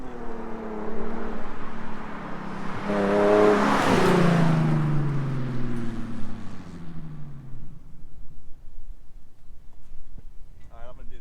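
A car engine pulls hard through the gears with a loud, close drone inside the cabin. Its pitch climbs, then drops at each shift, and the sound eases off toward the end.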